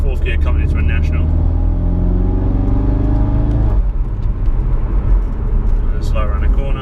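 A Ford Focus RS with the Mountune M400R package pulls hard in 4th gear, its engine a loud, deep, rising roar heard from inside the car, easing off abruptly partway through as a voice speaks over it.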